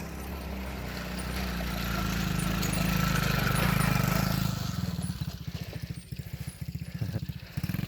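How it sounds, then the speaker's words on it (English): A child's four-wheeler ATV runs on a dirt track beside a sawmill and firewood yard, engine drone swelling as it approaches, then a choppy pulsing putter as it passes nearby. "Here comes little Emma on her four-wheeler"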